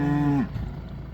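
Limousin cattle give a single loud, close moo inside a barn, a sustained low call that breaks off sharply after under half a second, followed by quiet shuffling and barn noise.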